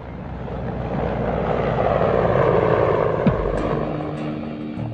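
A Mi-24 Hind attack helicopter with twin turbine engines flies overhead with a loud, steady engine roar and thrumming rotor blades, swelling and then easing slightly.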